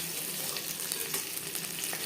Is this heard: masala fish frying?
yes